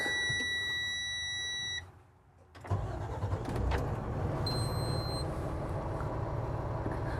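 A Renegade Verona 36VSB RV's collision mitigation system sounds steady tonal lane-search beeps against the running engine idle, cutting out briefly, then a softer beep pattern returns over the engine rumble.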